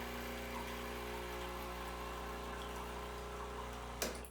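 Steady mechanical hum of an EspressoWorks espresso machine pumping hot water into a cup, continuous and close, ending with a sharp click or clunk near the end.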